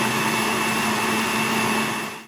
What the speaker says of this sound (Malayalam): എന്നിട്ട് നല്ലോണം പേസ്റ്റ് ആയിട്ട് അരച്ചെടുക്കുക.